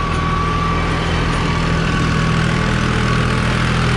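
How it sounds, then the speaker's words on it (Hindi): A New Holland 3630 Plus tractor with an 8-foot Shaktiman rotavator stands running at 1800 RPM, giving a loud, steady diesel drone with a constant low hum and no change in pitch throughout. "1800 RPM पर ट्रैक्टर खड़ा है"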